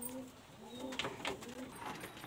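Pigeons in a loft cooing softly, a few low repeated coos against quiet background rustle, fairly close.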